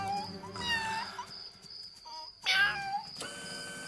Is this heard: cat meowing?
yes